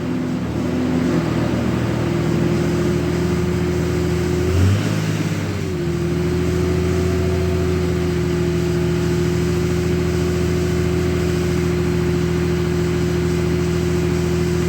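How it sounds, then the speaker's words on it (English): A 2003 Dodge RAM 3500 dually diesel runs steadily with the AC on and the fan clutch engaged, a loud, close, continuous drone with a brief dip and shift in tone early on. "Now let's put the AC on. And the fan should lock up."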